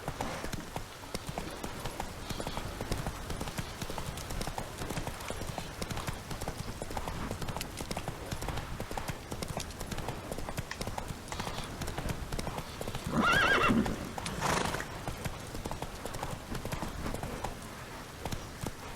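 A horse gallops in The Witcher 3: Wild Hunt, hooves drumming fast and continuous for a long stretch, with a neigh rising briefly near the end.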